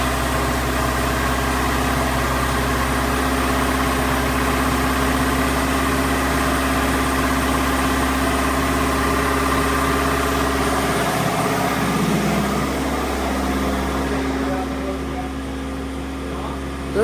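A turbo van engine idles steadily while warming up after a new radiator install, a constant low rumble with a faint hum throughout, easing slightly near the end.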